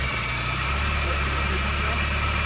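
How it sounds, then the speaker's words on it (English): A car engine idles with an intake leak, giving a steady, loud, close rumble with a constant hissing, vibrating texture and no voices over it. "listen to the intake leak"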